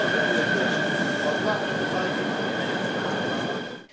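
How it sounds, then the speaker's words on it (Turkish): A metro train at Osman Gazi station in Bursa rumbles steadily close by, its wheels squealing with a sustained high whine over the rolling noise, fading out at the end. "Metroya binmek için Osman Gazi istasyonuna gelen Başkan Aktaş"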